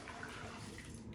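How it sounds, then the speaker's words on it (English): Dirty water from cleaning makeup brushes is poured out in a brief, steady, very quiet splashing rush of liquid, heard alone. "Now we're gonna dump this water"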